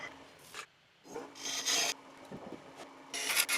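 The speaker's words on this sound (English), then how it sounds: "using the roughing gouge here to try to get it round" A roughing gouge shaves a wooden ferro rod handle spinning on a lathe, giving close rasping cuts in bursts of varying length separated by quieter spinning hum.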